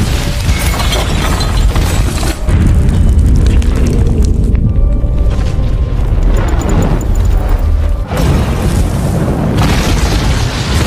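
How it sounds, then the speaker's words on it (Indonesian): A loud, sustained blast from an oven exploding, with a heavy booming roar and crackling debris that fills the whole stretch, briefly thinning before surging again, with no talking over it. "Namun tiba-tiba ledakan pun terjadi, di mana Buck harus tewas"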